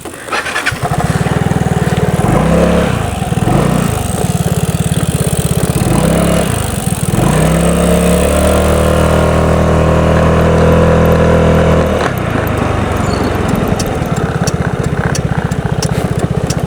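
A motorcycle engine starts and revs repeatedly on soft, muddy ground at a campsite along Tagaytay-Calamba Road in Laguna, loud and close, with rising and falling throttle bursts before settling into a steady higher run.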